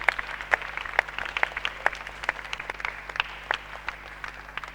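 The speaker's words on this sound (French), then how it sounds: "Est-ce que nous pouvons applaudir les futures mamans qui sont là?" A church congregation at a Christmas service applauding the future mothers, scattered and sparse clapping with individual sharp claps over a low steady hum, fairly faint.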